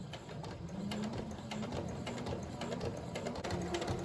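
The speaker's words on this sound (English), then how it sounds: "The machine should pull the fabric for you." A sewing machine runs steadily, its needle chattering in a fast even rhythm as it stitches fabric for a cloth face covering, moderately close with low hum beneath and no talking.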